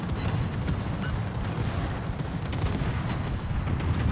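Naval gunfire salvos in the World of Warships game, a dense continuous roll of booming cannon blasts and rumbling explosions with no talk.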